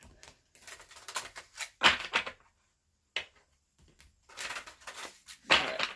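Magical Times Empowerment oracle cards by Jody Bergsma are shuffled by hand in quick papery riffles and flutters, bursts of crisp slapping and rustling separated by short silences, close and clear with no talk.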